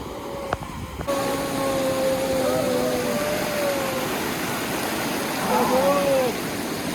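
River water rushes steadily through a dam, a loud broadband roar filling the whole clip, with thin tonal calls or voices drifting faintly above it.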